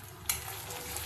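Beaten egg poured into hot oil in a pan for a mashed egg and lentil dish, a brief close sizzle with a sharp spatter as it lands, then steady frying hiss while being stirred.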